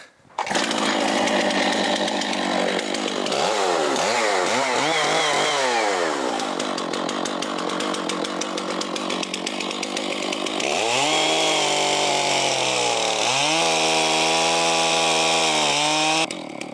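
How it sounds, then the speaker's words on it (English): A chainsaw with a 36-inch bar roars continuously at full throttle, its pitch dipping and rising as the chain bites into a tree stump, loud and close. "this chainsaw really wants to dig into the wood"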